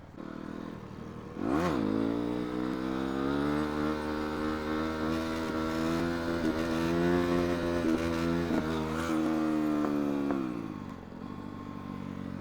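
A motorcycle ridden at speed on the road between Bhairahawa and Butwal, its engine droning loud and steady with a brief rev near the start and a dip toward the end, no talking over it.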